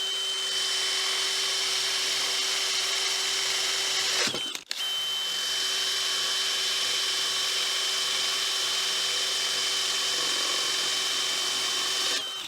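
A 35 mm Forstner drill bit bores steadily into wood, giving a loud continuous whining drill tone with a brief dip partway through, then resuming the same sustained cutting sound.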